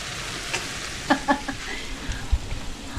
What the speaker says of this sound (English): We're more or less frying garlic in butter.